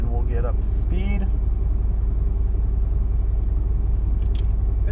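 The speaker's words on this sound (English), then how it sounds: "We gotta let some cars go on by." Race cars, including a Mercedes-AMG GT R, rumble past on a Las Vegas track in a steady, loud engine drone, with a person talking over it.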